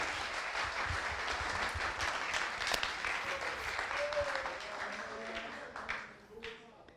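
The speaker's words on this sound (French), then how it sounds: "On l'applaudit s'il vous plaît." A crowd claps steadily and loudly, the applause thinning out toward the end as a voice starts talking over it.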